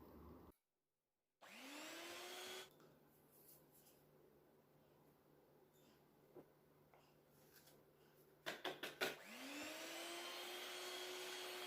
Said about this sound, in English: Start beating 3 eggs with the help of a hand mixer.